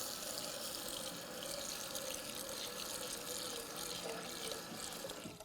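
Cold tap water runs steadily and without a break while rice is washed for chicken fried rice, a constant close splashing rush with no talk over it.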